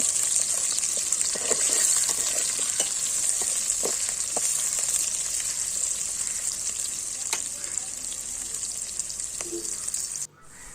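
Chopped onion pieces frying in oil in a pan, a loud steady hiss and crackle of sizzling that runs continuously with occasional small pops, then cuts off abruptly near the end.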